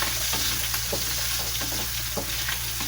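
Ingredients sizzling hard in oil as bottle gourd is sautéed, a loud, dense, continuous frying hiss close up, with a few light scrapes or stirs on top.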